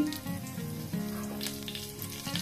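Mustard seeds and cumin crackle and pop in hot oil, a steady close sizzle with scattered sharp spits throughout.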